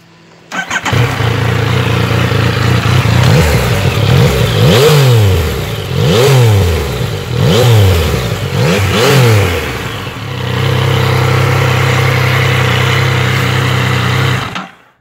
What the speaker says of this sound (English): that 4-cylinder cross-plane crank engine does sound nice